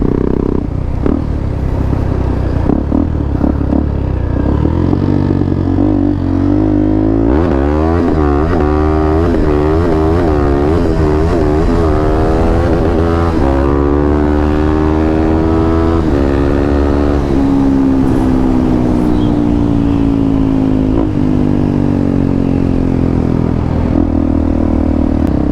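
A KTM Duke 390 motorcycle engine revving hard during a wheelie, its pitch rising and wavering through repeated throttle swells before settling into a steady high drone, loud and continuous.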